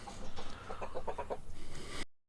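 Chickens in a homestead coop give a short run of rhythmic clucks, close and moderately loud, with a brief burst of quick repeated calls in the middle.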